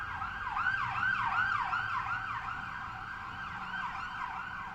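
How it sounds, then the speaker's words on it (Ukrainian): A wailing emergency vehicle siren in Canada sweeps up and down steadily and repeatedly, moderately loud against a low rumble of traffic. "І вони завжди їдуть з такою сиреною."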